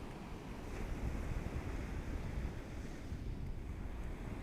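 Ocean waves roll and wash on a public beach, a broad steady surf roar mixed with wind buffeting the microphone, with no voices present.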